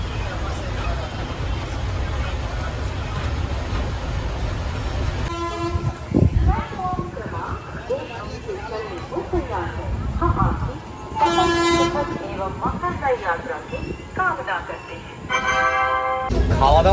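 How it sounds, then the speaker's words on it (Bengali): A train running past Azimganj Junction station, with a steady rumble of wheels and carriages, loud and close, several horn toots, and people talking in the background. "আমাদের ট্রেন এখন পার করছে আজিমগঞ্জ জংশন স্টেশন"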